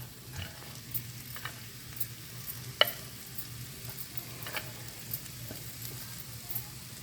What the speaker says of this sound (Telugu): ఓన్లీ ఉల్లిపాయలు వేగడానికి సరిపోతుందండి నూనె.